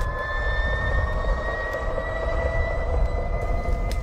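Harley-Davidson LiveWire electric motorcycle motor giving a steady, loud, turbine-like whine with sustained high tonal lines over broad low rumble, continuous throughout with no speech.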